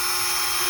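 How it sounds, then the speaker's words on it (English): A power drill bores through the metal part of a hoe handle, giving a steady, high-pitched whine at close range with no voices over it. "you just drill through that."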